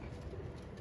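A pigeon feeds and drinks nearby, giving a brief, very faint low coo against quiet background noise.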